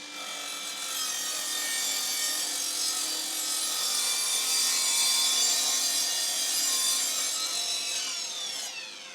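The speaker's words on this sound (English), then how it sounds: "I'm gonna cut out a shim." Power saw cutting a wooden shim, a steady close whining cut with a bright high-pitched blade tone that holds for about nine seconds before easing off as the cut finishes.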